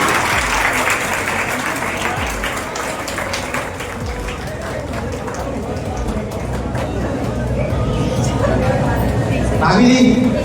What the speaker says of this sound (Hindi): आप लोग थोड़ी तालियां बजाइए।